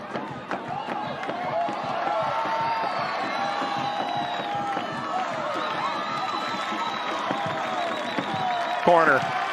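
A stadium crowd at a women's college soccer match between South Carolina and Alabama roars and cheers steadily throughout, with whistles and shouts rising above the din and a commentator talking over it.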